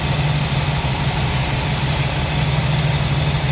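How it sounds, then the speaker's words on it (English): A Plymouth Duster 360 V8 engine with a noisy lifter idles steadily and close by, a continuous low drone with fine ticking texture and no voices. "She's looking pretty good. She's idling."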